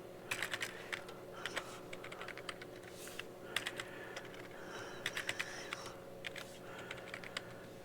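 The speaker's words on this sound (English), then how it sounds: "not sure how I like this Dell keyboard, but it works" Fingers type on a Dell computer keyboard in quick, soft bursts of key clicks separated by short pauses, close and quiet against a low room hum.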